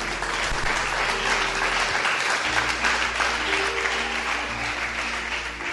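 A church congregation breaks into sustained applause during a sermon, an even wash of clapping throughout with a low steady hum underneath.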